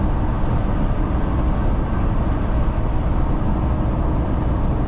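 Steady broadband tire and road roar fills the cabin of a Ford F250 Tremor pickup on wider tires while driving, a constant dense rumble with no break and no voices.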